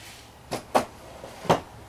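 Drawers of a home tool cabinet full of screwdrivers, pencils and tape measures are opened and closed, giving three short, separate knocks and slides in a quiet room.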